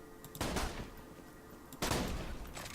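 Two loud shotgun blasts in the video game Borderlands 2, each a sharp boom with a short scattering tail, spaced about a second and a half apart with no talk.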